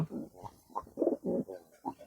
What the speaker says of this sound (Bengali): যে লক্কার জোড়াটা আছে আমার এই ব্ল্যাক কালার এটা কবুতরটা অসুস্থ আছে